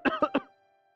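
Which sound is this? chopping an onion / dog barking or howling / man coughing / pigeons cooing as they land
man coughing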